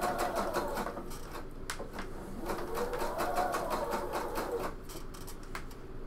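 Sewing machine stitching a bomber jacket seam through several layers of fabric, a close, steady rapid mechanical whir that runs continuously.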